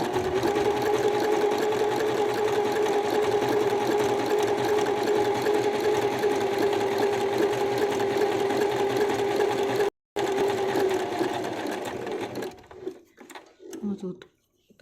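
A sewing machine runs continuously for about twelve seconds, stitching fabric with a steady, rapid mechanical whir, then stops; a brief pause interrupts it midway and faint handling sounds follow at the end.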